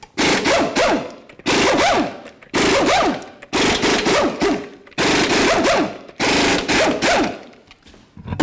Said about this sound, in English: Remove all 6 of your 21mm lug nuts.